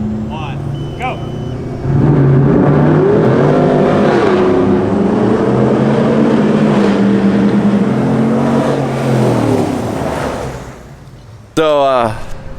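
Deleted L5P Duramax diesel pickup trucks race, with a loud sustained engine drone that rises and shifts pitch as they accelerate, then fades before a brief burst at the end, with voices faintly present.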